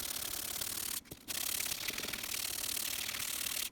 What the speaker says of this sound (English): So I'm just taking 100 grit sandpaper here.